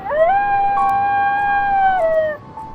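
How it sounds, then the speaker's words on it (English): Dogs howl in a scary animated story, one long sustained rising-and-falling howl with clear harmonics, loud and close, alone without talk, fading out near the end. "Only the howling of dogs was to be heard."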